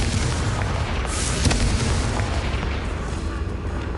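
A Confringo blasting spell explodes in Hogwarts Legacy with a deep, loud boom around midway, rumbling low over a dense, noisy bed of game ambience, no talk.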